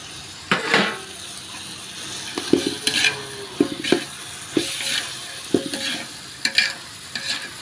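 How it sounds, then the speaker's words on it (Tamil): Carrots and beans being stirred in a hot pan for veg biryani, with soft sizzling under repeated scraping strokes of a spoon at a steady rhythm, no talk. "இதைய வெங்காயம் தக்காளியோட வதக்கிக்கலாம்."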